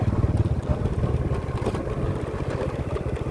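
A motorcycle-like engine throbbing loudly nearby as a vehicle speeds past on a village road, a steady pulsing drone that stays close throughout.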